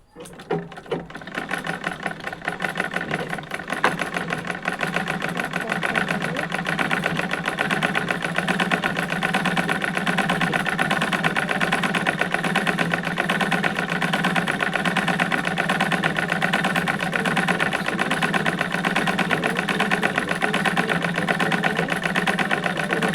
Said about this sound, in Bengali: বন্ধুরা সবাই দেখো কীভাবে আমি সেলাই করছি